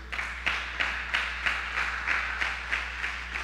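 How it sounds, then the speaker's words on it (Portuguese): Church congregation applauding, a steady wash of clapping with rhythmic pulses at a moderate distance, sounding alone. "Dá um aplauso aí"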